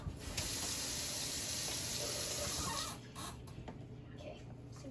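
Water runs from a kitchen tap into the sink during cleanup, a steady close rush that cuts off after about three seconds, leaving quieter splashes and drips.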